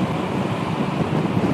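Wind roars past a rider on an Nmax 155 motorcycle at highway speed, a dense, steady rushing buffet with no break.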